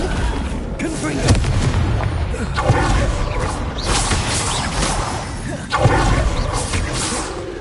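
In Hogwarts Legacy, a Confringo fire spell detonates with booming, crashing blasts amid a chaotic duel of cast spells, with heavy impacts repeating every second or two over a rumbling game mix.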